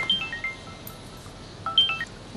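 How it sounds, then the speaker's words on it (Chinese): A mobile phone rings with two short bursts of electronic ringtone tones, one at the start and another near the end, moderately loud indoors with no talking. "他早上刚给我打完电话，怎么现在又打电话？"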